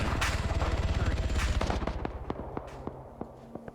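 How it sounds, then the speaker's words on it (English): Gunfire in the military shooter game Arma 3: a fast, dense burst of automatic shots at the start, thinning into scattered single cracks spaced apart toward the end, moderately distant. "I thought I just heard a gunshot over here"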